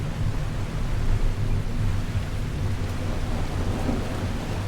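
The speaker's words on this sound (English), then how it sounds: "the storm came in while we were fiddly farting around" A steady, dense roar of heavy rain and low rumbling thunder in a storm in the video game The Last Caretaker, continuous and loud without any talk.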